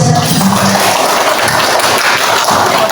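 A classroom of schoolchildren claps together, a dense, steady patter of many hands kept up at even loudness from start to finish.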